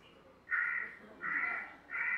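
Three loud, harsh caws from a crow, evenly spaced with short pauses between them, close and clear.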